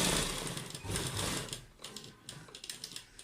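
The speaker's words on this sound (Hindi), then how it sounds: "पहले हम एंड तक सिलाई लेके आते हैं।" A sewing machine stitches pearl lace onto a suit fabric and runs the seam to the edge, making a continuous mechanical whir that fades into a softer, uneven run of rapid stitching taps.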